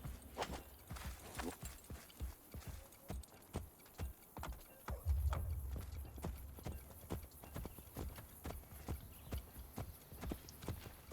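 Horse hooves in Assassin's Creed Brotherhood clip-clop in a steady, even rhythm, fairly close, over a low rumbling background.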